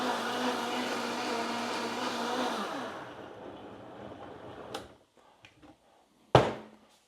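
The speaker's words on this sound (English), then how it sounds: "Straight in the blender. We'll make a noise." A Vitamix blender motor roars loudly and steadily for about three seconds, then winds down, followed by a few light clicks and a sharp thunk near the end.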